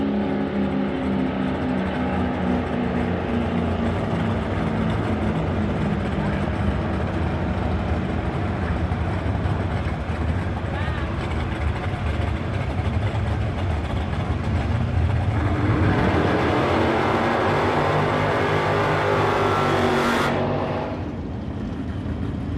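A Chevrolet Chevelle drag racing at a drag strip, its engine roaring continuously and loudly for about twenty seconds with a rising pitch sweep near the end before cutting off abruptly.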